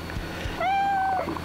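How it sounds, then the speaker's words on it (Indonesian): A cat in the mobile open-world zombie game Garena Undawn gives a single clear, drawn-out meow lasting about half a second, loud and close over faint game background. "Ada kucing cuy"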